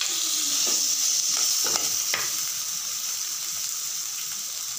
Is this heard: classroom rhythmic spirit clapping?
no